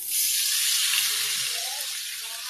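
Water pours into a hot frying pan for bangus steak, a steady rushing hiss that stays even and close throughout.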